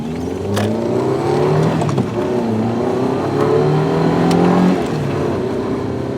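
An Audi TT driving fast, a steady loud engine roar with rising and shifting tones as it accelerates through the gears, close and continuous with no voices.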